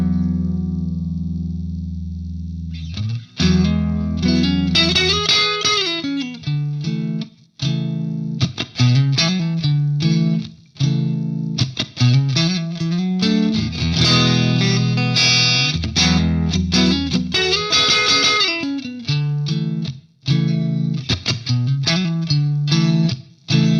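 Clean electric guitar through an amp with no pedals engaged, chords and single-note boogie runs played continuously, bright and undistorted with a slight shimmer.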